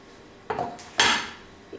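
A metal pot is set down on a stove while chicken is cooked for a cheesy soup, giving two clanking knocks of cookware close by, the second louder, followed by a faint clink.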